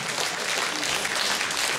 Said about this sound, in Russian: Под ваши аплодисменты встречайте очаровательная Альбина Десницкая.